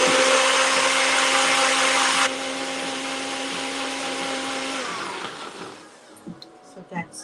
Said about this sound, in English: in goes just our chilies and our greens, which is coriander and mint leaves, cilantro, putina. So, and that's gonna just go in the blender.